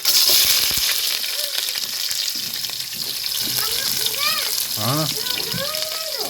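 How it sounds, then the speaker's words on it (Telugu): Cumin and mustard seeds and onions sizzle and crackle loudly in hot oil for a masala vankaya curry, with a steady frying hiss, stirring and a voice talking over it. "ఇంకా జీలకర్ర ఆవాలు అయితే వేసేనే, తర్వాత ఉల్లిగడ్డలు అయితే వేసుకుందామండి"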